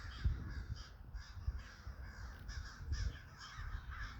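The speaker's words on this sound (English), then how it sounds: "they're really big and they're all black and they have a little bit of red on their wing." A large flock of big black crows with a touch of red on their wings caws loudly over a garden, harsh repeated calls overlapping in an irregular rhythm, near and persistent with no talking.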